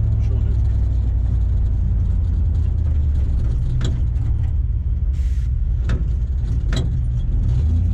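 A 1947 Ford fitted with a 1UZ VVTi engine drives through its gears at different rev ranges, a loud, steady engine and road rumble running throughout with a few brief higher-pitched bursts.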